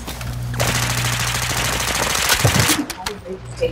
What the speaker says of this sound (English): I'm shooting at my boy.